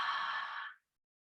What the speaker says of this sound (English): You might start to cultivate a bit of an Ujjayi breathing